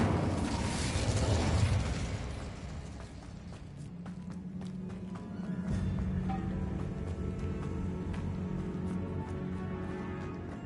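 Incendio fire spell cast in Hogwarts Legacy, a loud fiery burst that swells at once and then settles into a sustained crackling roar and rumbling drone, close and alone.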